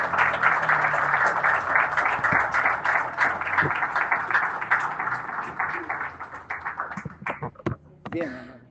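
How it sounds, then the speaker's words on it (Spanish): A church congregation applauds together, a dense, loud burst of clapping that holds steady for several seconds, then thins out into scattered claps and a few voices. "Un fuerte aplauso para el Señor."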